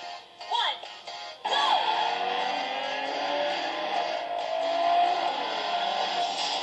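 A car racing game playing on a ZTE Blade phone, synthetic engine whine rising and shifting pitch over steady game audio, heard through a small speaker after a short stuttering start.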